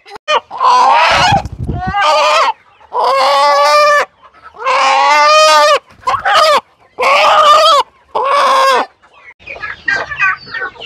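Loud, close calls of native country chickens being caught and put into a net, in repeated long honking bursts, one after another with short pauses, alone without talk.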